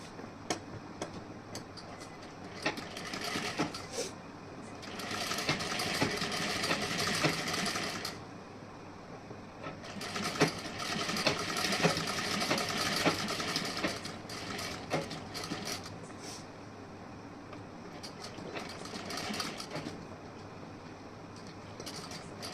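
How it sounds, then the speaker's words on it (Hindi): A sewing machine stitches a folded seam on a princess-cut blouse in three long rattling runs separated by quiet pauses, the needle's rapid ticking close and clear. "इस तरीके से फोल्ड करने के बाद यहाँ पे सिलाई लगानी है"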